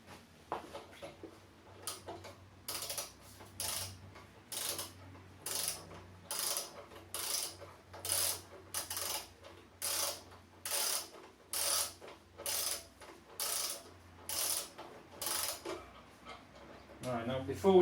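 A ratchet wrench tightens the front fork pinch bolt on a Suzuki Intruder Volusia VL800 motorcycle, giving a steady run of loud, evenly spaced clicking bursts close by, with a voice briefly audible underneath.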